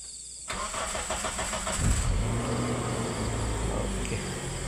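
A car engine, just replaced after a no-start fault, cranks briefly and catches, then settles into a steady, fairly loud idle heard up close.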